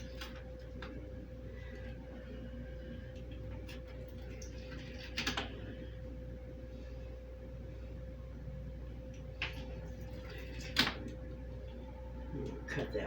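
A knife slices through a prepared meal-prep dish on a board, giving a few sparse, sharp cuts and taps over a steady low kitchen hum.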